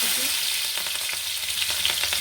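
Chili, ginger and garlic fry in a hot pan, making a loud, steady sizzle with quick stirring scrapes close by and no voice over it.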